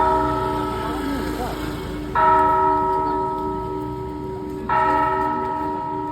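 Clock tower bell on a campus tolling loudly nearby, two long ringing strikes a few seconds apart, each leaving a sustained humming decay, with faint voices underneath.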